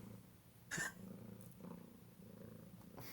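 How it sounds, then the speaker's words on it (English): A soft, steady purr hums close by, low and continuous, with a brief faint click partway through. "Is that Chloe purring?"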